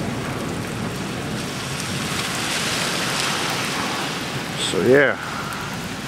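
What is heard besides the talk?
thunder and rain during a storm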